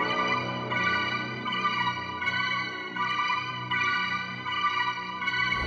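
A dark, low-pitched synth melody repeats in slow phrases, thick and echoing with a steady, brooding tone and no voices.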